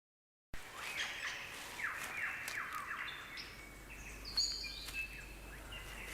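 A superb lyrebird of southern Australia sings outdoors, a varied stream of sweeping whistles, chirps and mimicked calls at moderate distance over a steady low rumble, starting after a brief silence.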